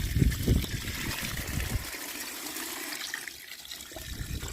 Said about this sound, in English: so just gonna wash these off now and then bag them out for